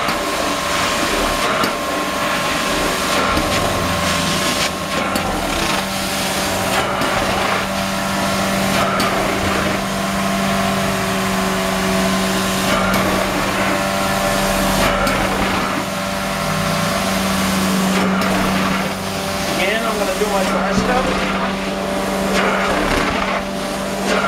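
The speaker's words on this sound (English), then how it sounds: "you can hear the engine running very smooth" A truck-mounted Mobile Inferno 2545 LP carpet cleaner engine runs smoothly with a steady loud drone and hum throughout, with occasional clicks and shifts from the cleaning wand over the top.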